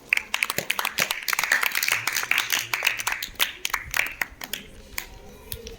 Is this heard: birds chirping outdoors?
no